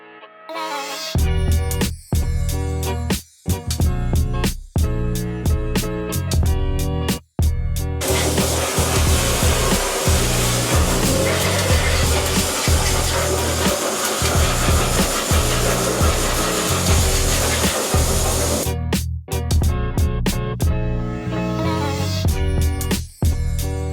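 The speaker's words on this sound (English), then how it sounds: "So the first wheel's now fully blasted" A car alloy wheel is abrasive blasted in a cabinet, giving a loud continuous hiss of grit and air in long bursts, broken by short clicks and pauses where the blasting starts and stops.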